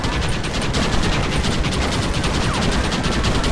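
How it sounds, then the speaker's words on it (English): Rapid, continuous gunfire in the western video game Red Dead Redemption, with dense bursts of shots crackling without pause at loud, close range. "Why are they all shooting at me?"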